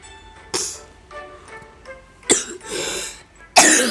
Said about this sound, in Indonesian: sorry batuk-batuk.